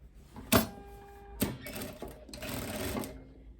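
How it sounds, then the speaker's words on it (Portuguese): A sewing machine with a fine needle set to a 3.5 stitch sews the back crotch seam of spandex Zara-style trousers, heard as two short quiet bursts of rapid stitching followed by a longer run. "nós vamos passar a costura aqui fechando o gancho traseiro."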